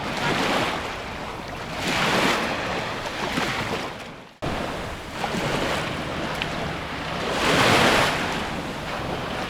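Baltic Sea waves surge and break on a beach in Gdynia, Poland, in slow, swelling washes, with steady wind buffeting the microphone throughout.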